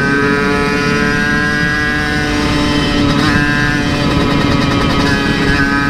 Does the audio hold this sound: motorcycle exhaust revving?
yes